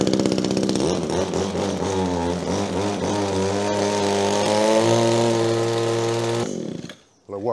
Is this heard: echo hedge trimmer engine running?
yes